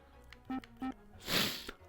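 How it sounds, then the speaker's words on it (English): A person sniffles up close during a game session, a brief breathy nasal sniff after a couple of short voiced sounds, alone and fairly quiet. "And ignore the sniffles."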